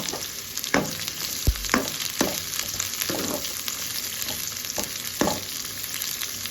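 Onions frying briefly in a pan while still nearly raw, a constant bright sizzle with repeated clanking stirs and scrapes of a spoon against the pan, close up and unaccompanied by speech.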